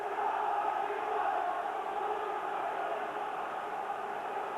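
A football crowd roars and chants steadily at a Bolton Wanderers versus Swindon Town League Cup semi-final second leg, a dense, sustained wall of voices heard from within the stadium.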